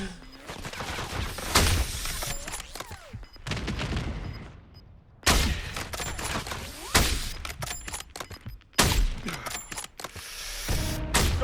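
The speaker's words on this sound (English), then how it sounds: "Loading fresh mag." Weapon handling in Call of Duty Warzone: mechanical clicks and ratcheting metal clacks of a magazine swap, set among bursts of gunfire and loud game effects, with brief speech now and then.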